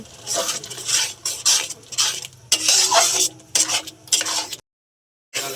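Masala paste with salt and green chilies being stirred and sautéed in a pan for chicken kosha, bursts of hissing sizzle and metal spatula scraping in uneven strokes, then a brief silence.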